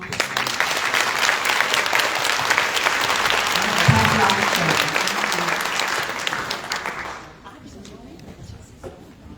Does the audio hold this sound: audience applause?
yes